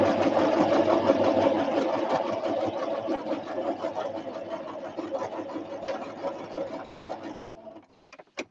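A sewing machine stitches fabric in a fast, continuous mechanical whir with rapid needle ticking, running for about seven seconds before stopping, followed by a few faint clicks.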